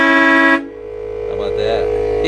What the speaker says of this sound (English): That's the Wooloo horns from Harbor Freight.